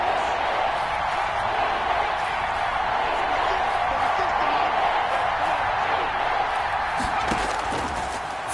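A stadium crowd in the Madden 21 football video game cheering before a big third down: a steady, loud wash of crowd noise that holds evenly throughout, with commentary voices talking over it.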